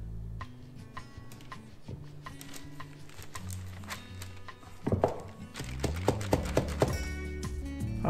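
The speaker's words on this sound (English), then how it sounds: "Always remember to give your loaf pan a good bang so that you don't have air pockets at the end." A loaf pan filled with hot process soap is banged on a surface to knock out air pockets, producing a run of dull thunks and knocks, some louder and sharper than others, in an uneven rhythm over soft background noise.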